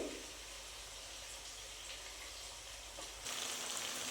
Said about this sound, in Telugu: కొంచెం ఆయిల్ పోసుకుంటున్నానండి మరి పీస్ పెట్టుకున్న కరేపాకు పచ్చిమిరపకాయలు కూడా వేస్తున్నానండి